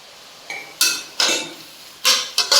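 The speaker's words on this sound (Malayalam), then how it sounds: "കുറച്ച് ഉപ്പും കൂടി ഇട്ടിട്ട് നമുക്കൊന്ന് വഴറ്റിയെടുക്കാം." Sliced onion with salt being stirred in a pan while cooking egg masala, heard as several sharp metallic scrapes and clanks of a spoon against the pan, spaced irregularly over quiet background.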